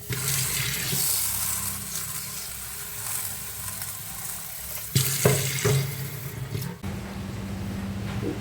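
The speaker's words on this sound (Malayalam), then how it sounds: "ഇതൊന്ന് നമുക്ക് വെള്ളം ഒഴിച്ച് വെക്കാം" Water is poured into a cooking pot for a rice porridge, a sustained close gushing stream that shifts to a heavier splash partway through, then settles.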